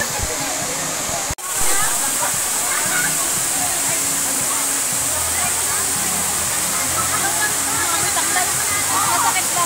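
A waterfall in Hong Kong roars as a constant, close rush of falling water, briefly cut off by a sharp dropout, while people talk and chatter nearby.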